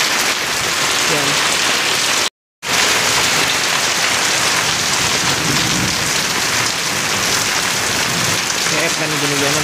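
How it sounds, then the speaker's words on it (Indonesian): Steady heavy rain pours in a continuous hiss at an outdoor setting, loud and close, broken only by one brief silent gap. "Hujan."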